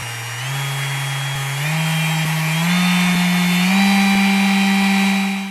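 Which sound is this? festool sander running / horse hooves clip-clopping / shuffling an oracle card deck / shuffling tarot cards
festool sander running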